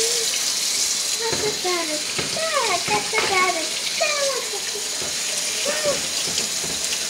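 Tap water runs steadily into a sink as a child washes hands, a constant close splashing hiss, while a voice chirps and exclaims over it.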